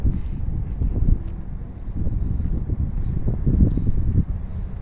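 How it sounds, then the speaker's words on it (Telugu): Strong gusty wind in Doha, Qatar buffets the microphone, a continuous low rumble rising and falling throughout. "గాలి ఓంది అసలు."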